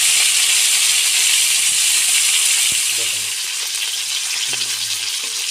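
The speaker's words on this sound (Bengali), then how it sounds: "মাছগুলোকে ভালো করে ভেজে নিতে হবে" Fish fry in hot oil in a pan, a loud, steady sizzling hiss close up that softens slightly toward the end, with a few brief low murmurs beneath it.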